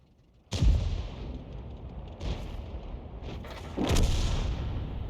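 Artillery shells fire in World of Tanks, three heavy booms roughly a second and a half apart with rumbling tails, a fairly close but slightly muffled battle scene with no talking.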